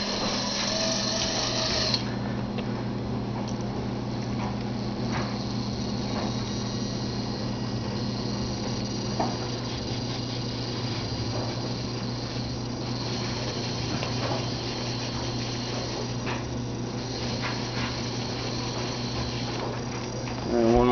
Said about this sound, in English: And one more shot of the exactly how slow this motor will turn.